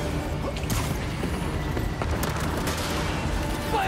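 A volley of gunfire during a Spider-Man 2 video game battle on a moving raft, a dense, continuous wash of overlapping shots and clatter with scattered sharper cracks, steady and loud throughout.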